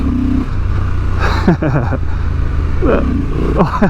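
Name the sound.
Honda Transalp XL750 motorcycle accelerating at full throttle, first gear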